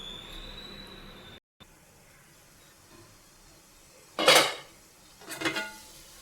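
A metal plate set down onto an idli steamer pot of boiling water, giving two short clattering metallic knocks a second apart over a low steady background hiss.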